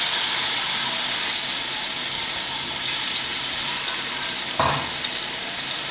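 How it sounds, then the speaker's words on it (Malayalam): Jackfruit pieces fry in hot ghee in a pan, giving a steady, close-up sizzle and bubbling throughout, with a brief clatter of stirring near the end. "ഈ നെയ്ക്കകത്ത് കിടന്നൊന്ന് മൂക്കണം."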